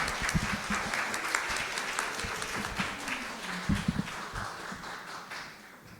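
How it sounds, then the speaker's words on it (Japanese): Congregation at a Sunday church service applauding to welcome a guest worship singer, a steady, moderately distant patter of many hands clapping that swells and then gradually thins out. "拍手を持ってお迎えしたいと思います。"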